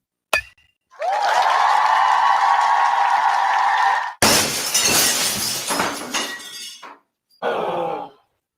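A car windshield shatters in a radio ad. A sharp hit and a long ringing tone lead into a loud crash of breaking glass with tinkling debris, then a brief final burst.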